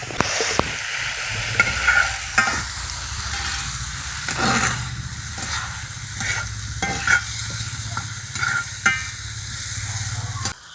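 Ground spices such as turmeric, chili powder, salt and a little sugar sizzle in a pan for a tofu dish, stirred steadily with a utensil that scrapes and taps close by, with no talking.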